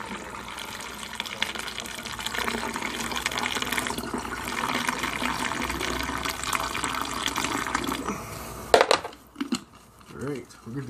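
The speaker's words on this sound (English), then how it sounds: "Let's put some more water in." Water poured into potted plants while setting up autoflower seedlings in solo cups inside a small grow tent, a steady continuous stream running for about nine seconds under faint talk, ending abruptly with a few brief splashes.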